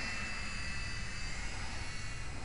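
A FlyZone PlayMate radio-controlled airplane flies along a residential street, its small electric motor giving a steady, thin whine that holds at a constant level throughout.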